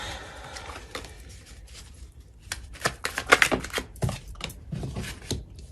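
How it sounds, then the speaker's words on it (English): A deck of tarot cards is shuffled by hand: soft, quick riffling clicks and card slaps come in uneven bursts, quiet and close, with no talking. "You see how much I shuffle."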